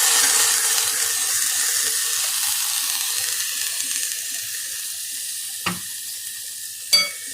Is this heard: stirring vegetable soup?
yes